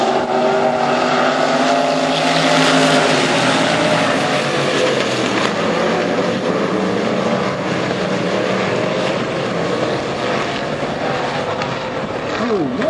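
A pack of limited modified race cars roars off at the start, loud overlapping engine drones rising and sweeping in pitch as they accelerate past.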